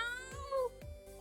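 A pet cat named Rada meows once, loud and close, with a rising, drawn-out harmonic cry in the middle of a short, otherwise quiet stretch.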